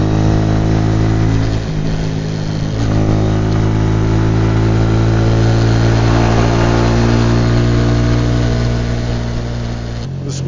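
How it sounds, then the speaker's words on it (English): A vehicle engine drones on a rural road through rice paddy countryside in Vietnam. The hum stays loud and steady throughout and shifts briefly near the end. "Just see if I can get past this vehicle."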